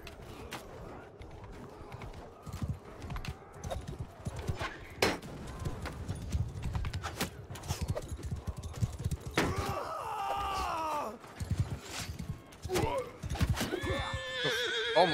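Horse neighing and whinnying in the Mount and Blade II: Bannerlord multiplayer siege battle, with loud battle clatter and hoof sounds throughout and a few clear whinnies near the end.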